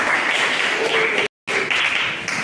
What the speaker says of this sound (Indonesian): tepuk tangan kembali untuk Tanjung Pinang News